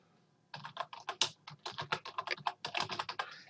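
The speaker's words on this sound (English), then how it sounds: "I'm going to go ahead and just enter my name here, and I'll put in my email address" Rapid keystrokes on a computer keyboard as a name and email address are entered, a steady run of close, crisp taps starting after a brief quiet pause and continuing without speech.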